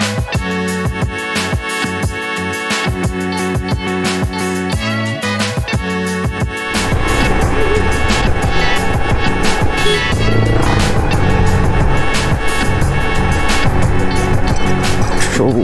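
A 125cc motorcycle rides along a potholed, bumpy village road, its engine drone steady and close throughout, growing louder and rougher partway through, with jolts and rattles over the uneven surface.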